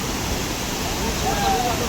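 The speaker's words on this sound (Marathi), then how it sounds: "इथं बघा प्रचंड प्रमाणात पाणी आहे" River water swollen by heavy rain rushes steadily and heavily nearby on the route to Kedarnath, a continuous roaring wash with no breaks.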